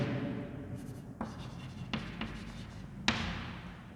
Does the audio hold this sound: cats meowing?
no